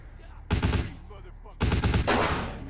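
Two loud bursts of gunfire from the video game Vampire The Masquerade: Bloodlines, each a booming shot followed by a rattling tail and a lingering echo, spaced about a second apart.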